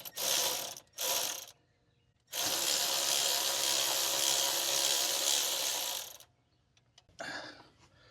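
Ratchet on a long extension turning out 10 mm bolts on a Nissan Rogue A/C compressor: three bursts of rapid clicking, the middle one long and steady, with short pauses and a brief softer ratcheting at the end.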